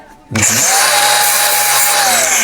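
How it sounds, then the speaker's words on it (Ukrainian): A power grinder whines into action abruptly, then grinds steadily and loudly with a harsh, high-pitched metallic screech throughout. "ось цей кусочок зараз ще чухнув болгаркою"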